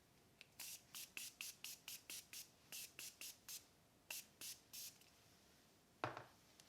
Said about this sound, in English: I'm gonna use the Morphe Mini Continuous Setting Spray